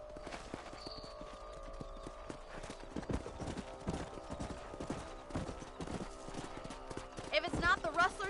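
Rhythmic, repeated hoofbeats from horses ridden across open ground in the video game Red Dead Redemption, heard under character dialogue, with a short whinny toward the end.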